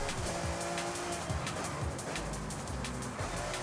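A rear-wheel drive car skids in Forza Horizon 5 with steady tire squeal over a constant engine drone, the squeal rising and holding through the corner, close and continuous with no voices.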